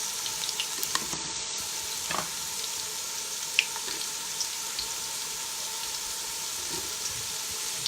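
Half an onion fries in a pan for a Ghanaian corned beef stew, giving a soft, steady sizzle and crackle with a few faint clicks and bumps throughout.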